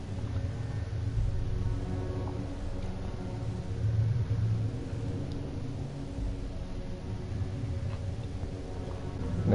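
Storm ambience with tornadoes and lightning in the video game Outriders: a steady, dense low rumble with a wash of wind-like noise, continuous and even throughout, with no voices.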